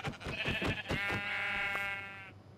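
A sheep in a video game bleating in a few quick, wavering calls followed by one long drawn-out bleat, fairly quiet and alone with no talking.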